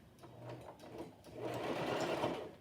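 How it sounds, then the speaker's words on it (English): A sewing machine stitches a fabric face mask, its close, fast mechanical whir starting in short bursts and then running continuously and louder to the end. "So I'm about to stitch from one end to the other."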